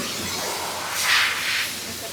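A leak on a Toyota's DEF tank gives off a steady, close hiss that swells briefly in the middle before settling back to a constant rush.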